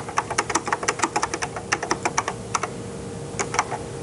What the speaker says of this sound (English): I can point at any place and start typing